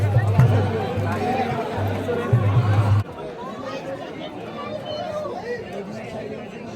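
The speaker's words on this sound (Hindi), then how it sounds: "आज तो बहुत ही भीड़ है" Large crowd packs Nizamuddin Dargah in Delhi on Basant Panchami, a steady babble of many voices close around, with louder music or chanting in the first few seconds before the ambient hubbub continues alone.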